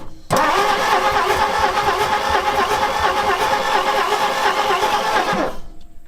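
Starter cranks an old abandoned panel truck engine that has sat for 40 years, a steady, loud, unbroken churning for about five seconds before it cuts off abruptly.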